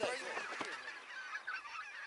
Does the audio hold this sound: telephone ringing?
no